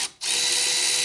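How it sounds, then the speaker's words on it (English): A power tool or ratchet whirs continuously and close-up after a brief pause, working on a 12 mm brake line bolt on a Nissan X-Trail T30 during a rear brake job, loud and steady with no talk. "I'm going to loosen the brake line bolt now, this one right here."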